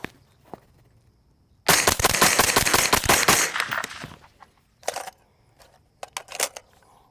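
An old-school AR-15 CAR-15 rifle fires a long rapid string of loud, sharp shots outdoors, followed after a pause by a few shorter bursts and single cracks.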